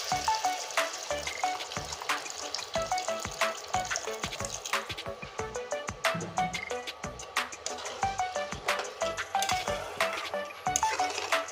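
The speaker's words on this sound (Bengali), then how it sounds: "এবার আমি দিয়ে দিব পরিমাণ মতো জল" Water is poured into a sizzling spiced tomato base for a pabda fish curry with eggplant, and the hot oil crackles and spits steadily with liquid splashing through the frying.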